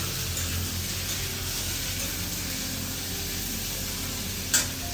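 Vegetables hit a hot pan on a gas stove and sizzle in a steady, loud, hissing fry. It runs continuously with no one talking, and a small clink sounds near the end.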